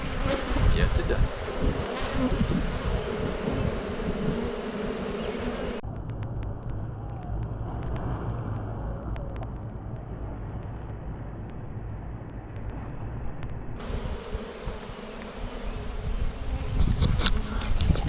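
Honey bees swarm around an opened backyard beehive, a dense close buzzing drone that continues throughout, its tone shifting as bees pass near, with brief muffled stretches.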